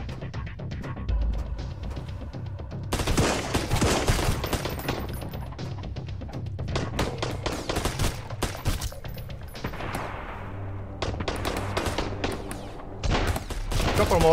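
Sunkenland game combat rattles with rapid bursts of gunfire and heavy booming grenade blasts, dense and loud, shots overlapping in clusters throughout.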